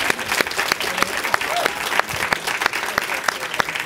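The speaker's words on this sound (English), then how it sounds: "let's get a round of applause" Audience applause at a film Q&A panel for a new movie, a dense, steady clapping from a crowd that fills the whole stretch at moderate loudness.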